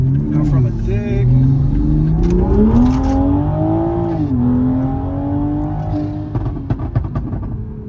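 A tuned 800-horsepower B58 2021 Toyota Supra 3.0 GR launches from a standstill, its engine note climbing loudly and steadily through the revs, with someone talking over the top of it.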